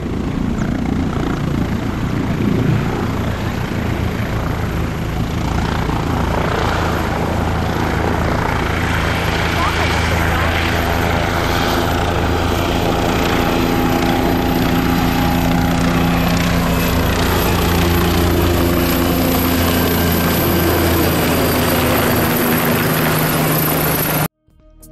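An air ambulance helicopter at a road accident scene where a scooter rider was hurt, its rotor and engine droning loud and steady throughout with a constant whine.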